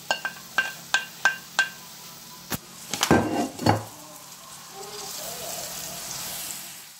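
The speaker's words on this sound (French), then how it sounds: "Et maintenant, on mélange le tout." Several sharp utensil taps ring out against a pan. Then spinach and parsley are stirred into potatoes with a burst of scraping and clattering, followed by a low, steady sizzle.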